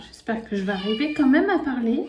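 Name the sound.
kitten meowing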